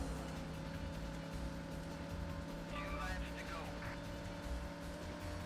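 A steady engine drone with low harmonic hum runs throughout, a car engine in a Sega Saturn racing game, with a faint whine rising briefly midway.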